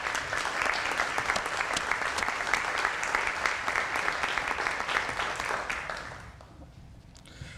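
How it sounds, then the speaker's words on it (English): A dinner audience applauds in a full, even roar of clapping that holds steady for several seconds, then tapers off toward silence. "Let's give them a round of applause."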